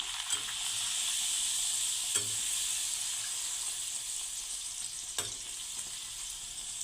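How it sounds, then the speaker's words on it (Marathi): Puris deep-fry in hot oil for puri bhaji, giving a bright, steady hiss and fine crackle that holds throughout, with a couple of brief clinks of a utensil against the pan, close and moderately loud. "अशा पद्धतीने मी ते सर्व पुऱ्या तळून घेणार आहे"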